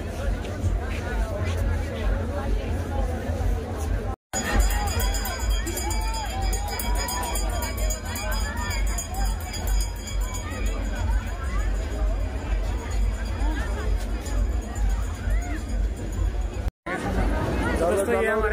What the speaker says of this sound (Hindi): और भाई ऐसी भीड़ में निकलना बड़ा मुश्किल है।